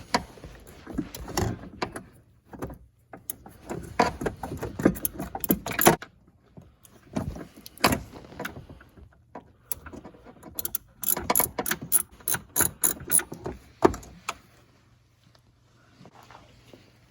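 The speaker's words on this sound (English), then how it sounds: "We're going to use our 13 millimeter deep socket with an extension." A hand ratchet fitted with a 13 mm deep socket and extension turns out a battery mount bolt on a 2018 Cadillac ATS 2.0 Turbo, with close, quick clicking runs separated by short pauses and repositioning clunks.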